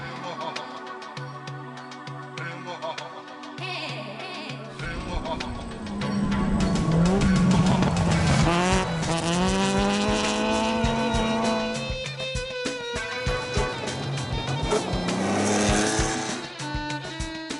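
A racing car is driven hard around a circuit at a classic car event, its engine roaring steadily and climbing and falling through the gears, with tyre squeal at times and someone talking over it.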